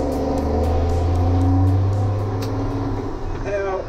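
A truck engine with an 18-speed Road Ranger gearbox, heard as a loud, close diesel drone that rises and then drops as a gear change is made without the splitter, with someone talking over it.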